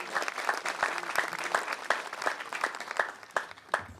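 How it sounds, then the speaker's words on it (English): Crowd applause at a Memorial Day parade in Orange, Connecticut, outdoor clapping with distinct sharp claps standing out in a steady rhythm over the general patter, moderately loud and with no voices. "They deserve a round of applause."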